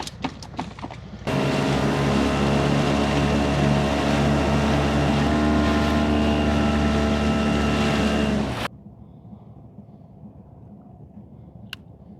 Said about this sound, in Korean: 시동 켜봐라